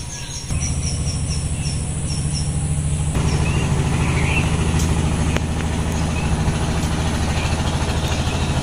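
A motorboat carrying paddy to market runs on a waterway with a steady, close low engine drone that lasts the whole time, while insects chirp high and thin above it.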